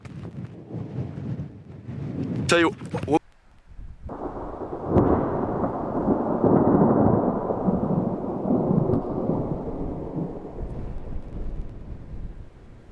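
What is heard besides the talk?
thunder during a storm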